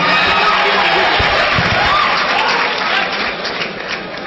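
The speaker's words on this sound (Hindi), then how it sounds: "जोरदार तालियों की गूंज में उनका इस्तकबाल किया जाए।" Steady, dense applause from a large audience at a mushaira, an Urdu poetry gathering, fills the whole stretch, loud and continuous, easing slightly toward the end.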